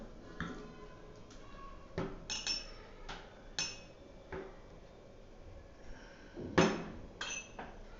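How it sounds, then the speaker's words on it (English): A spoon stirs a solute into a solvent in a glass, giving light irregular clinks and taps against the container, a dozen or so spaced strikes with one louder knock near the end. "If we stir the solute in the solvent, we will get the solution faster."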